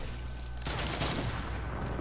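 Gunfire in the video game Fortnite: a dense, loud burst of rapid shots that erupts suddenly after a brief lull and keeps rattling to the end.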